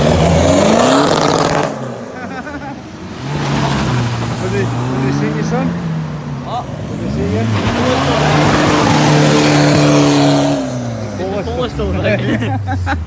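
Modified cars leaving a Scottish car meet, including a tuned Skoda Fabia, pass close by with loud engine revs, rising and falling acceleration and exhaust roar, while people talk and shout nearby.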